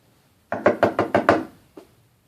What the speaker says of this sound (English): And he went up and he knocked at the door.